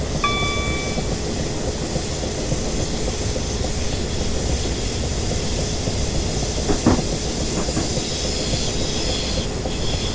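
A class 377 electric train runs steadily in Train Simulator 2018 on the East Croydon to Shepherd's Bush route, with a continuous rolling rumble, a faint high whine and a few brief clunks around the middle, no talk.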